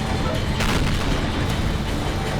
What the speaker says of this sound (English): takes a hit from the IS-4